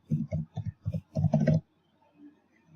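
A username is typed on a computer keyboard: a quick run of about eight close, crisp keystrokes over a second and a half, then near silence.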